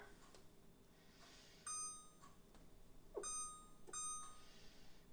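Kitchen timer being set while making no-knead artisan bread, with three short, shrill electronic beep bursts close by in a quiet room.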